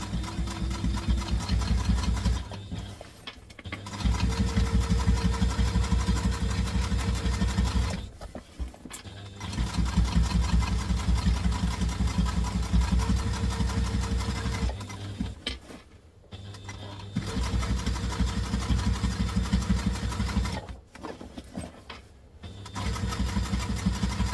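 A sewing machine stitches a travel tote bag in long steady runs of rapid mechanical whirring, stopping briefly several times between bursts, up close and alone.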